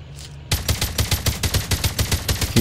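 Rapid automatic gunfire from the Call of Duty Mobile video game bursts in after a short quiet start and continues in a fast, even stream of loud shots.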